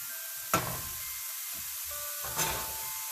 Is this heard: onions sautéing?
yes